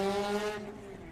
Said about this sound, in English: That car's loud. You just know it's the Exige.